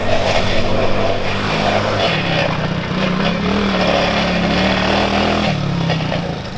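A Coleman mini bike with a swapped-in 110cc engine runs loud and close, its engine note holding steady with slight shifts in pitch as it labors.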